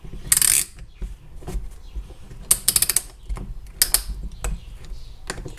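A piston ring compressor being ratcheted tight around a piston from a Toyota Starlet 4E-FTE turbo engine, a series of sharp metallic clicks and ratcheting bursts separated by short pauses, close and fairly loud.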